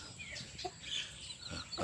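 Burmese fighting chickens at a farm give a few faint, scattered clucks over quiet outdoor background noise, with no talking.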